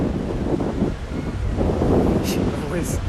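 Strong wind buffets an outdoor overhead camera beside a lawn bowls rink near a bay, a loud, continuous low rumbling roar of wind noise against the microphone.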